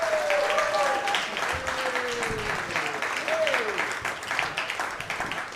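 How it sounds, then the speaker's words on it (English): Comedy club audience applauds steadily throughout, a dense wash of clapping with a few whistles and cheers rising over it, close and fairly loud. "Give it up for Blake Hammond, everybody."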